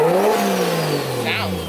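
A cold Nissan S14 Kouki engine revs up loudly and then bogs down, its pitch sliding lower as the rev fades, heard close for a brief moment.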